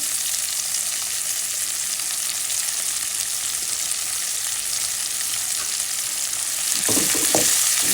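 Onions frying in oil with chili, turmeric and salt, cooked while preparing a spicy fish roe dish: a loud, steady sizzle throughout, with a brief stirring clatter near the end.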